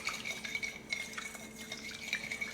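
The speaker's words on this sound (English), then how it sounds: "Next, I'm going to whisk it really well." A whisk beats olive oil, lime juice, salt and pepper in a bowl, making a close, rapid, steady scraping and clinking against the bowl with faint liquid swishing.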